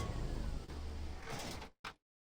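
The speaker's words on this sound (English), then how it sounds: "Let the doors open, and we're out." Hangar elevator doors sliding open in the video game Star Citizen: a steady mechanical whoosh and hum that runs for well over a second, then cuts off, followed by one short closing burst.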